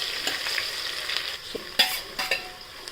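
Peanuts frying in hot oil in a home kitchen pan for a spinach and green sorrel dal, a steady close sizzle with a few sharp stirring clinks and scrapes, no voices.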